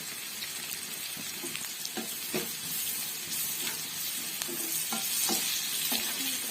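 Bamboo shoot with salt and turmeric fries in a pan for a small-fish dish, a soft sizzle broken by repeated scraping strokes of a spatula at an uneven pace.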